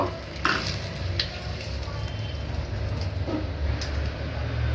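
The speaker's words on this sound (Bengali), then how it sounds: "অল্প একটু পাঁচফোড়ন ফোড়ন দেবো এবার দেবো এই চারটে তেজপাতা একটু ছিঁড়ে দিয়ে দেব" Panch phoron spices and torn bay leaves sizzle in hot oil, a steady close hiss with a few soft stirring clicks and scrapes of a utensil in the pan.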